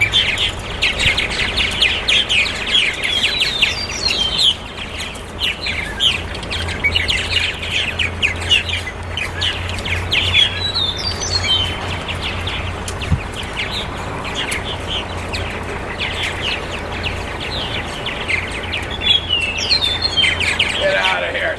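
Starlings and purple martins chirp and twitter continuously at a feeder outdoors, a busy, fairly loud chorus of overlapping calls throughout, with occasional voices in the background.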